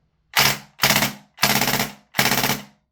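A VFC M249 gas blowback airsoft rifle with a high-capacity conversion fires at 100 psi in four separate rapid bursts, each a loud mechanical rattle of clacking shots with short silent gaps between.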